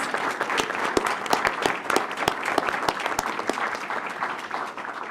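People applaud the families in the audience at a regular school board meeting, a room-filling wash of clapping punctuated by several loud, sharp individual claps near the listener, gradually thinning toward the end.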